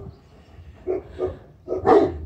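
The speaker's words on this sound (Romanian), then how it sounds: "S-a trezit cățelul" A small dog wakes and barks at a solar panel installation site, several short barks rising to a louder burst near the end, close and alone.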